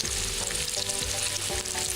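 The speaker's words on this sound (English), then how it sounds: "It's boiling, it's frying" Breaded pieces fry in hot oil in a cartoon, a dense, steady sizzle with bubbling crackle and faint stirring, loud and close with no talking.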